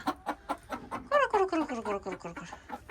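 Chickens cluck in a coop room, a steady run of close, overlapping clucks and short calls with one drawn-out squawking phrase in the middle, no one speaking.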